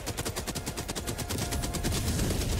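Machine gun fire in the video game Helldivers 2: a rapid, continuous burst of loud rattling shots that holds steady for the whole stretch, with no talk over it.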